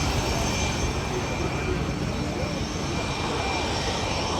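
A CF-18 Hornet jet at the Gatineau-Ottawa airshow at Gatineau Airport roars steadily with loud, continuous broadband engine noise throughout, with no break or fade.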